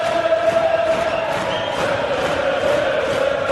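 Crowd at Alexandra Palace during a 2011 PDC World Darts Championship match between Walsh and Pipe, a steady dense roar of voices and cheering holding at even loudness throughout.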